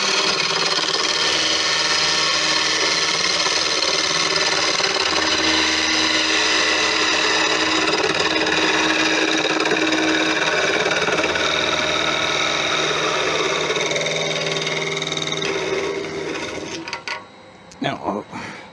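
A wood lathe spins steadily while a tool cuts off a large turned wooden angel piece, a continuous loud whirring and scraping that holds for most of the stretch before winding down near the end.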